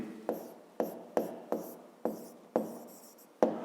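Pen strokes on paper as an answer is written by hand, seven short scratchy bursts in a steady rhythm, close and quiet with no talking.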